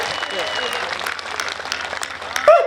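An audience claps steadily at a Hindi comedy poetry show (kavi sammelan), a dense, sustained round of applause with a voice cutting in near the end.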